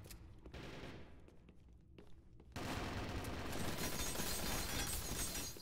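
Game gunfire during a competitive multiplayer match, likely Halo, with sparse rapid shots early, then a sustained, dense burst of automatic fire that fills the rest of the moment loudly and steadily, no voices present.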